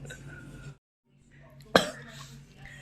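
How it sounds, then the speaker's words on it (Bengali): A single sharp cough bursts out from a person nearby on a cold winter day, coming after a brief lull amid soft indoor background noise and murmured talk. "কাশি হচ্ছে কেন আজকে আমার?"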